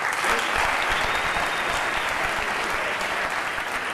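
Sustained, dense audience applause at a politics and government award nominations ceremony, steady and fairly loud throughout four seconds, with no clear speech above it.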